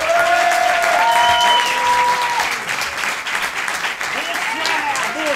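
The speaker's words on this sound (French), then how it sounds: "Je vous demande d'applaudir pour la première fois Ashraf Taleb." Loud, sustained audience applause fills the room at a televised talent show, steady clapping with crowd noise and overlapping voices, tapering slightly toward the end.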